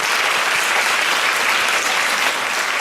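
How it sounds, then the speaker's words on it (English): An audience at an Alzheimer's summit for Hispanic caregivers gives the speakers a loud, sustained round of applause, a dense continuous clatter of many hands with no voices over it. "One more round of applause."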